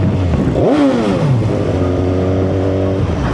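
A big bike motorcycle engine revs once hard, its pitch sweeping up and falling back, then settles into a loud, steady idle close by.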